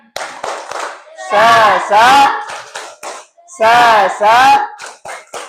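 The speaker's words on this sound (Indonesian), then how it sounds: "kita tepuk semangat terlebih dahulu ya" A class performs the 'tepuk semangat' rhythmic clap chant, bursts of sharp group claps in a set pattern alternating with loud chanted shouts from the group, all close and lively.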